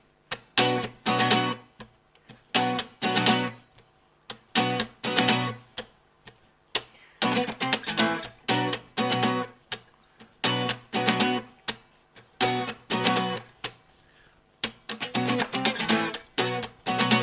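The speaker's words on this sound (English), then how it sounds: "I'm going to show you a famous and popular acoustic guitar riff" A bright acoustic guitar riff plays in short, rhythmic strummed bursts separated by brief pauses, loud and close, repeating several times.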